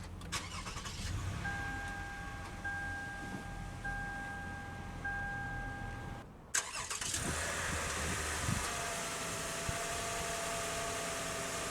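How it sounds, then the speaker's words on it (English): A 2010 Lexus RX 350 FWD with push-button ignition cranks and starts, then settles into a steady, fairly quiet idle heard up close without talk, after a faint chime sounds beforehand. "let's go ahead and start the engine"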